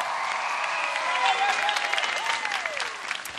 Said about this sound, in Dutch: Een applaus voor mezelf.